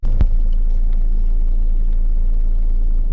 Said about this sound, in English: So I'm going to show the port noise here.